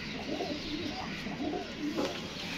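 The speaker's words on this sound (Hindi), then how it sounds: "ये 7 कबूतर है" Pigeons coo softly and repeatedly in low, rolling calls, close by, over a steady background hiss.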